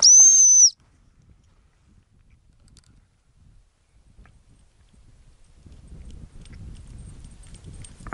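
A dog recall whistle gives one loud, sharp, steady high note lasting under a second, out on open moorland in winter. Faint wind and low rustling follow it.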